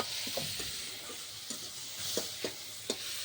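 Dal cooking in a pot over a wood fire, a continuous bubbling sizzle with a few sharper pops and crackles spaced through it, close and fairly steady.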